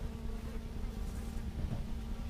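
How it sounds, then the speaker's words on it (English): Close, steady droning hum of many bees buzzing inside a mini nuc box, continuous and even with no voices. "There's bees in here."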